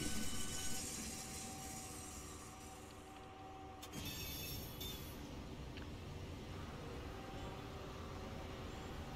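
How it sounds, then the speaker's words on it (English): A Thameslink train pulls away in a London commuter rail simulation, with a steady, fairly quiet rumble of wheels and motors that shifts tone partway through and carries on without speech. "The other Thameslink is leaving now."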